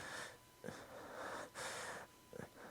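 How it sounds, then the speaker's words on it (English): Heavy breathy panting from a character in the video game Danganronpa: Trigger Happy Havoc, rising in long repeated huffs with brief sharp gasps between them, close and fairly loud with no one talking. "Okay, I'm tired of this panting."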